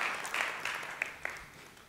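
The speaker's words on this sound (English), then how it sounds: "Please give him a round of applause." Audience applause at a live talk event: a spread of hand claps, moderately faint and tapering off over two seconds as the clapping dies down.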